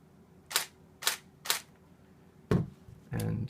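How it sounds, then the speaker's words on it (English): Nikon D750 DSLR firing its normal shutter: three crisp, sharp clicks about half a second apart, then two louder, fuller actuations with a heavier mechanical clack, close and isolated in a quiet room. "Here's the normal shutter."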